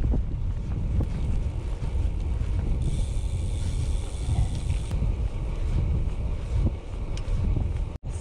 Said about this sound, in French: Il y a du vent qui est revenu.